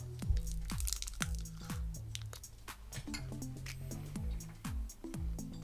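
Someone bites and chews a Black Thunder chocolate bar up close, a quick run of crisp crunches and crackles repeating in an uneven rhythm, with a little background talk.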